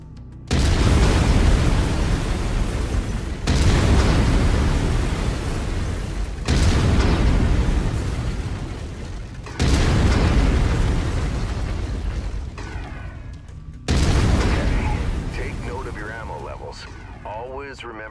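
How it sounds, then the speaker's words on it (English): A mech's autocannon in MechWarrior 5 Mercenaries fires five heavy, booming blasts at steady intervals of about three seconds, and each one rumbles and fades before the next. "I've mapped the autocannon to Weapon Group 1. You're free to fire whenever you're ready."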